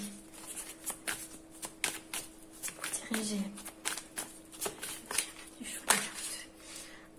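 Tarot cards being shuffled by hand in repeated soft riffling bursts across several seconds, with someone speaking French over the shuffling.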